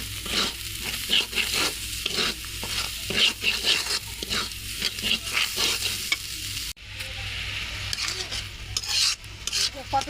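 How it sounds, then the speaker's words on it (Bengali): Beaten egg is stirred with fried spices in a pan, with steady sizzling and repeated spatula scrapes and clinks, moderately close, and a brief cut partway through. "নাড়া দেওয়া হয়ে গেছে, মশলার সাথে মাখিয়ে নেব।"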